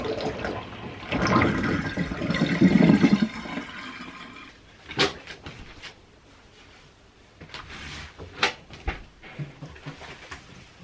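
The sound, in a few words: water being drained out while washing cloth diapers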